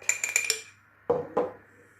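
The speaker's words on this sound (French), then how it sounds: "je vais en mettre dans mon petit pot, là. Alors, je vais prendre une grosse cuillère." A big metal spoon clinks against a small jar while scooping homemade mustard, four quick bright taps followed by two duller knocks, close and clear with no voices.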